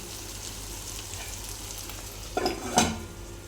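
Tomato egg curry simmers in a covered pan with a soft, even sizzle, broken near the end by two short metallic clatters of cookware.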